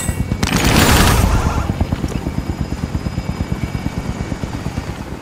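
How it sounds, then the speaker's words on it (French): A helicopter in Call of Duty Warzone gives a loud, close, rapid rhythmic thudding of rotor blades, swelling in a rushing burst early on before settling into a steady beat. "L'hélico est en position."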